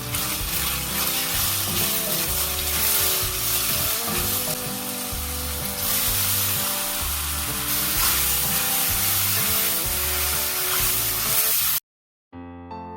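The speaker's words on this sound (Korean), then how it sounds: "굴소스 2큰술, 당근, 닭고기 넣고 살짝 볶습니다." Chicken, carrots and two spoonfuls of oyster sauce stir-frying in a pan, a steady loud sizzle with stirring scrapes, ending in sudden silence.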